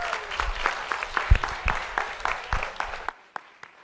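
A small audience at a keynote talk gives a short round of applause, sparse distinct claps close by that thin out and stop after about three seconds, followed by a couple of stray claps.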